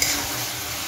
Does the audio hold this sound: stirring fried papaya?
yes